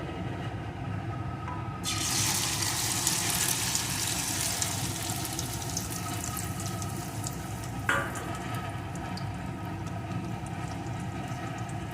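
An onion and egg mixture is poured into hot mustard oil. A quiet background suddenly turns into a strong, steady sizzle that continues evenly, with one brief clink of a utensil partway through.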